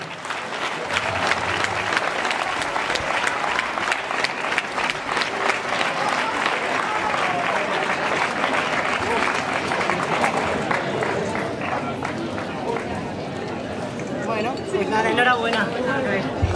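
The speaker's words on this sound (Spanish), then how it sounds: "venga, un fuerte aplauso ahí" Sustained applause from a crowd at a road race awards ceremony, steady and lively, with rhythmic claps emerging and chatter underneath toward the end.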